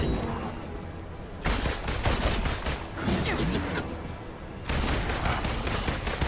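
Black Widow fires her pistols in Marvel's Avengers, loud bursts of rapid gunfire in two dense volleys separated by a short lull, close and punchy.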